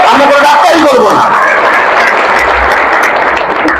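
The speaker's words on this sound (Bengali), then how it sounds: "যে একটা হাততালি চাই, আমরা কোনো ডাক্তারি করবো না।" Audience clapping at a stem cell nutrition therapy seminar, a sustained burst of applause from a gathered crowd with some murmuring voices mixed in, loud and close throughout.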